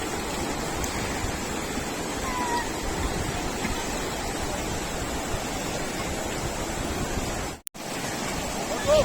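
Steady broadband rush of the Kosi river flowing past the bank at Chatara, Nepal, a continuous near wash of moving water with no clear pauses and a brief dropout near the end.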